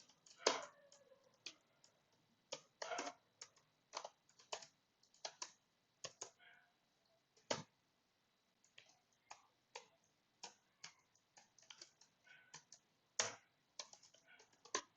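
Java code typed on a computer keyboard: quiet, irregular bursts of close keystrokes with short pauses between them, and no voices.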